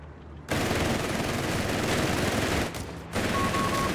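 .30 cal machine gun fire in the video game Company of Heroes 3, loud continuous automatic bursts with a brief lull before the firing picks up again.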